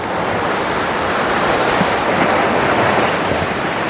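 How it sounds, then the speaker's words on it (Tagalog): A strong river current rushes in a steady, loud, broadband roar that fills the whole stretch without pause, close by and with no voices over it. "natakot ako kay malakas yung agos ng tubig"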